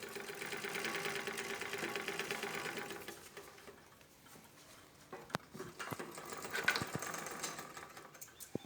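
A foot-pedal interlock sewing machine runs in a steady mechanical chatter for about three seconds. Then come quieter pauses, scattered clicks and a few short bursts of stitching, all close by and with no talk.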